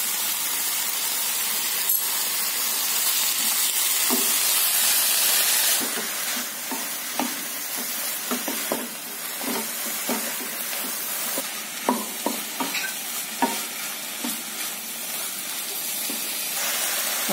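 A spoonful of ginger garlic paste fries in a pan for a veg roll filling, a broad hissing sizzle that eases after a few seconds into quieter frying with repeated spoon scrapes and clicks, close up and wordless.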